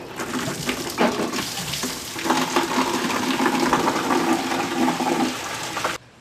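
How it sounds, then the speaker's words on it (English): A garden hose runs water into a bucket in a rainwater-harvesting setup, a steady splashing gush that starts with a surge and continues evenly before cutting off abruptly. "The hose is connected to the bucket, and I'm just going to turn on the water."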